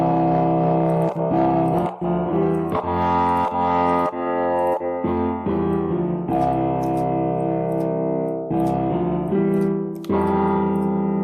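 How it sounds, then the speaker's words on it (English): A distorted, effects-heavy music track in FL Studio 20 with reverb added, sustained tonal chords ringing out and washing into each other, loud and continuous with short dips between phrases. "I will put in a little bit of reverb"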